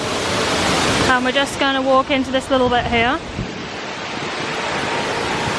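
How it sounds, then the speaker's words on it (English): A small waterfall at Universal's Islands of Adventure theme park in Florida, near Mythos, gives a steady loud rushing hiss throughout, while someone talks over it for a couple of seconds. "Nice little waterfall there."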